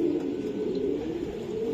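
Racer pigeons coo in a continuous low, muffled drone, near and fairly even in loudness, with no talk.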